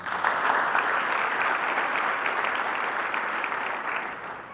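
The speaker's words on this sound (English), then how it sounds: "Ladies and gentlemen, graduates, please join me in giving them a round of applause." A graduation audience at a commencement ceremony claps in a sustained, dense round of applause that holds steady and then gradually tapers off, heard from within the hall.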